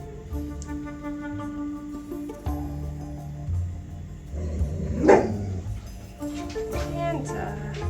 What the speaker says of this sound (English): what you barking at, girl?